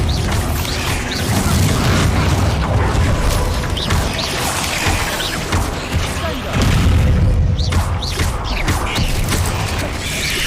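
Loud, dense blasts and crashing impacts from a Bombarda blasting spell in the Hogwarts Legacy video game on PlayStation 5, with continuous rumbling booms and debris that swell again midway, amid busy spell combat.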